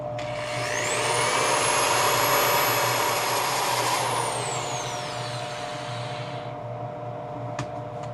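A coastal redwood serving plate is sanded at 80 grit on a lathe, a loud broadband hiss over a motor whine that rises in pitch, holds, then falls away as the lathe slows.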